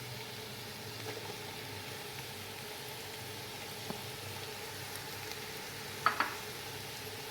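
Capsicum and cabbage frying in a pan with boiled potatoes make a faint, steady sizzle, with a couple of soft clinks near the end and no voices.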